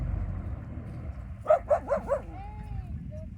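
A small dog near a ferry landing lets out four quick yapping barks in a row, fairly close, followed by a faint whine, over a low background rumble.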